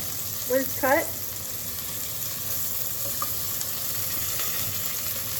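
Onions sauté in a pan for homemade soup, giving a steady soft sizzling hiss throughout, with a brief voice-like sound near the start.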